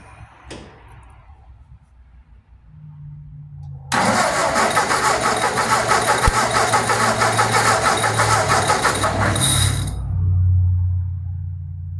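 A tractor engine is cranked over for a compression test. A brief mechanical lead-in and a low hum come first, then loud, close, sustained cranking runs for about six seconds before it cuts off, leaving a low rumble.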